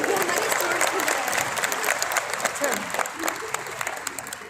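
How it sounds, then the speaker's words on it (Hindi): Applause from a convocation audience at Noida International University honoring chief guest Defence Minister Rajnath Singh: a steady, dense wash of many hands clapping at close range, sustained for the whole stretch with slight swells. "हमारे माननीय मुख्य अतिथि श्री राजनाथ सिंह जी के लिए जोरदार तालियां होनी चाहिए"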